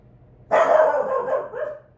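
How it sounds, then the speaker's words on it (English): A dog barks close by in one loud, sustained bark that trails into a softer yelp, alone over quiet room tone. "I'm sorry, my dog keeps barking."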